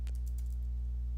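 Keystrokes on a computer keyboard entering a MATLAB command: a few soft, quick clicks at the start of the stretch, faint over a steady low electrical hum.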